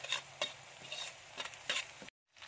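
Ground spice paste sautéing in a pan, with quiet sizzling and bursts of stirring scrapes before a short drop to silence.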